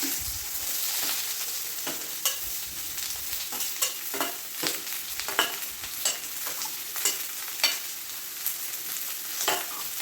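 Chopped onions fry in hot coconut oil with a continuous close sizzle broken by repeated sharp clicks and scrapes of a spoon stirring the pan at an irregular pace, with no voices.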